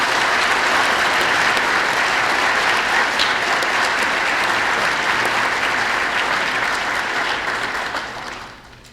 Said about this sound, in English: Let's have a round of applause for all of our honored guests